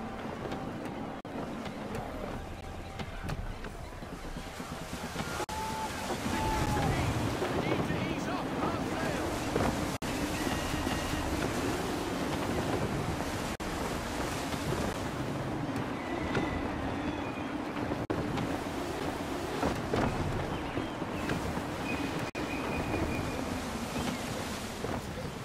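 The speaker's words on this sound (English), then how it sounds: "Wind looks to be shifting. Stay alert, Connor. Gusty winds can be difficult to manage." Gusty wind rushes steadily over rolling waves while sailing a ship in Assassin's Creed 3, a broad continuous roar that swells after the first few seconds and holds loud throughout, with faint tonal hints of music beneath.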